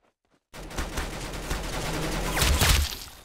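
Rapid bursts of gunfire from a mobile shooter game crackle loudly and steadily for about three seconds after a silent start, swelling near the end.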